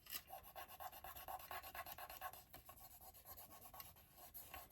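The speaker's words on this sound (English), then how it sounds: "I'm just going to rub it with my fingers" Fingers rub paper briskly against a handmade card, a close, quiet scratchy rasping in quick repeated strokes, alone without talk.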